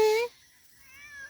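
A cat running along a street gives one short, fairly faint meow, followed by quiet background and a soft rising sound near the end.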